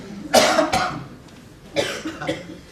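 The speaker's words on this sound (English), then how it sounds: "It's making me cough." Several harsh coughs in two quick pairs, close and loud, with a short pause between the pairs.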